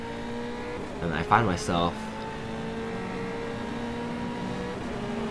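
An F3 race car engine in the Automobilista racing game hums with a steady, tonal drone throughout, while someone talks briefly over it near the start.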